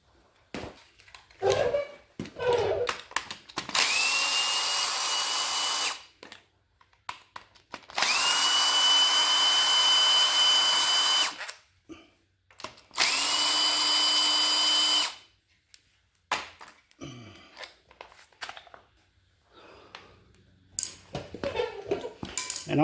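A power tool whirs in three sustained bursts, each lasting a few seconds, as it backs 8mm bolts out of the plastic cover on a Yamaha WR250R motorcycle. Clinks and handling noises fall in the gaps and at the start and end.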